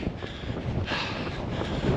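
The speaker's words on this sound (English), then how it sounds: "It is pretty windy" Steady gusty wind buffeting the microphone during a long run outdoors, a continuous broadband roar with swells in strength and no voices.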